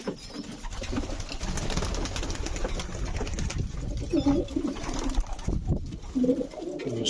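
Young pigeons coo in a loft while being fed, soft throaty coos repeating close by in overlapping bursts over a faint background of shuffling and rustle.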